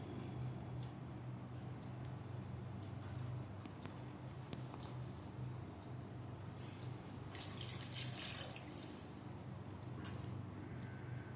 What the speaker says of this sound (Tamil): இதில் புளி தண்ணியை இதில் ஊற்றிடலாம்